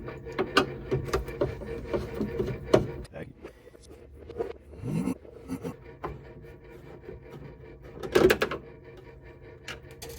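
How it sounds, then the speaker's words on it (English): Screws are being removed from the control panel of an LG top-load washer, heard as close, intermittent scraping, rattling and tool clicks with brief louder knocks, without speech. "Gonna go ahead and remove these 2 screws."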